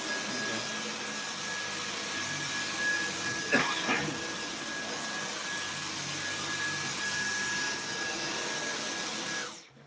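A Dyson V10 Animal cordless vacuum cleaner on max mode runs on carpet with a steady, close, high-pitched motor whine. A brief scraping rustle comes partway through, and the sound cuts off abruptly at the end.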